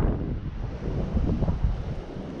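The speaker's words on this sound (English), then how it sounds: "this wind is blowing my rod" Wind rumbles steadily into the microphone outdoors while someone is fishing, a continuous low buffeting roar that rises and falls slightly, with no voices.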